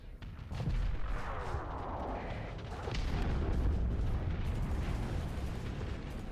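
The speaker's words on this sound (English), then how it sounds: "fly into the explosions, that's nice of them." Space battle explosions in the Starsector video game, a dense continuous rumble of booms and bursts that stays loud and steady throughout, with no voices.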